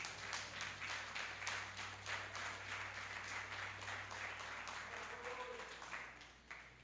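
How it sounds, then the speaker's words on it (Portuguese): A church congregation applauds together during a sermon, a dense, steady wash of clapping that fills the whole stretch at an even level, with a low hum underneath. "aplauda bem forte o nome do Senhor"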